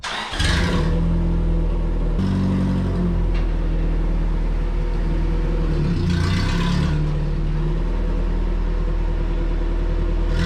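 A 1984 Toyota mini pickup's engine idles and revs loudly nearby, with a rough, rumbling exhaust note from a worn exhaust that rises and falls.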